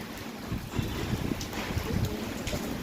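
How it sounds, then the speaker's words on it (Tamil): Strong wind blows steadily and loudly across the microphone outdoors, a continuous rushing roar with gusty swells and no voices over it. "காற்று வேறு செம்ம காற்று."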